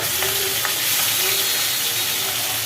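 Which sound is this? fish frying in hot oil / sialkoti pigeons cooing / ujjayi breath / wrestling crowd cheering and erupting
fish frying in hot oil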